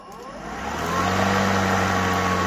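A Greenworks Pro 80V 21-inch electric lawn mower motor spinning up from low to a steady whirring drone, close and fairly loud, with a constant hum and no voices.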